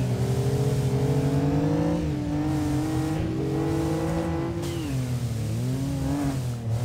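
Car engine in the Kaido Racer video game while driving in the snow, loud and steady, with pitch climbing and dropping through gear changes and some tire noise. No speech over it.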